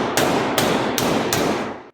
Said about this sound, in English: Just gonna give this a good club with a brass hammer.